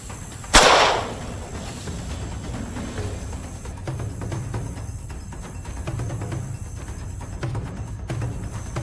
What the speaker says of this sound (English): I pulled the trigger. The gunshot echoed through the swamp